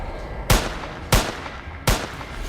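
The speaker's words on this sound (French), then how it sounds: "J'ai tiré à bout portant avec ma 22." Three sharp .22 rifle gunshots ring out at even intervals of roughly seven tenths of a second, each a loud crack with a short decaying tail. No voices are heard.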